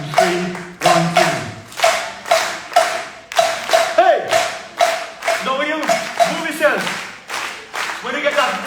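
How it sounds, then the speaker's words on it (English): An audience claps along in rhythm with a speaker at a Super Saturday event, sharp group claps falling in a repeating 1-2-3, 1-2 pattern, while a voice sings or chants over the beat throughout. "So I want you to clap with me."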